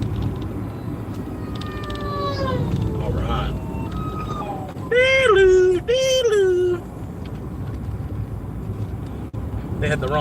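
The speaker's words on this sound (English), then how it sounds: "They had the wrong siren on." A siren wails in rising and falling sweeps, some long glides and two sharp whooping bursts, over road noise and background talk.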